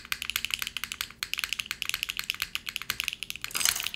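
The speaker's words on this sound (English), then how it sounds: "Let's see what this sounds like with a GMK set." Typing on a Mode Envoy mechanical keyboard fitted with HMX Xinhai switches and GMK keycaps: a rapid, continuous stream of crisp, close clacks with uneven rhythm and a louder burst near the end.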